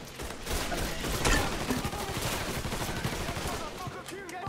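Gunfire in the video game Mafia 3: dense, sustained bursts of automatic shots rattling continuously with little pause, loud and close throughout.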